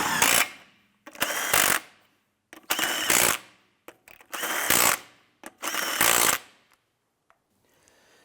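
A power impact tool snugs down car lug nuts on a 2005-2007 Ford 500, five loud, close bursts of rattling whirr about a second each, separated by short pauses.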